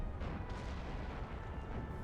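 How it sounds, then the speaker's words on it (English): Cannon artillery booms in a video game battle in the Napoleonic era, deep rumbling blasts rolling continuously at a distance, faint and low with no talk. "Should have probably held the cannons to get a better shot."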